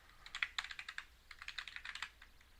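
Quick bursts of key presses as a cheat code is entered on a computer keyboard for Harry Potter and the Sorcerer's Stone on PC, crisp close clicks in two short rapid runs, no talking.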